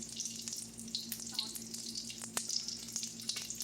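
Breaded steak fingers dipped in egg and spicy coating fry in a pan with a steady crackling sizzle, continuous and close, with scattered sharper pops and no talk.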